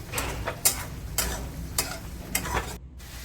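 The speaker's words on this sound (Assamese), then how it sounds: "সেই ক্ৰীমখিনিও দি পেলাই এতিয়া ভালদৰে লৰাই দিছোঁ" A utensil stirring egg curry with cream in a pan, a soft wet scraping with several distinct scrapes spaced about half a second apart, near and fairly quiet.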